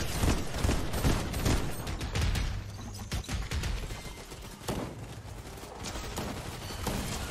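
Turret gunfire in the Fortnite Battle Royale video game, dense rapid bursts of shots with clattering impacts that run almost nonstop, loud and close, easing briefly midway before resuming.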